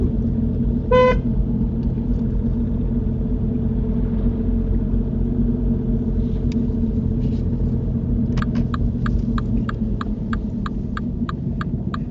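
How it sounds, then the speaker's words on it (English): A car horn during a mock driving test: one short beep early on, then a run of quick, evenly spaced toots near the end, all over the constant rumble and hum of the car's interior. "Do you want me to sound the horn?"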